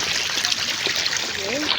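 Water from a motor pump flows steadily into a vegetable garden planted with cabbage seedlings, a continuous trickling, splashing stream heard close by with a faint voice in the background.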